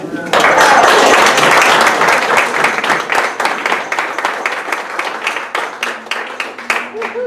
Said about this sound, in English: They're clapping not just for longevity